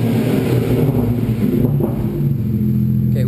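BMW 335i fitted with an HPF 3.5-inch stainless steel exhaust revving outdoors, a deep loud rumble that swells and settles across a few seconds, heard from a short distance.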